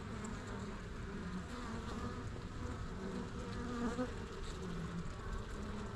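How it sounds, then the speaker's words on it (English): Honeybees swarming around an open hive box in spring, a dense continuous buzz heard close up, quiet and steady with no talking. "we have lots of bees, so we got to pay really close attention to this hive"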